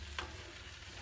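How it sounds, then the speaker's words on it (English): Shrimp paella cooks in a pan over raised heat, giving a faint, steady sizzle and fine crackle with one brief sharper tick near the start. No one talks. "I'm turning up the heat a little bit so it starts sizzling"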